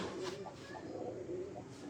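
A breeder's Jhang Road Jonsray pigeon gives a low, steady coo, faint and continuous over a dense background hum.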